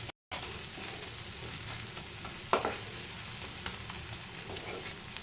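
Onion and spice masala fries in a pan while being stirred, a quiet, even sizzle with occasional spatula scrapes and one sharper clack midway, heard close and without any talking.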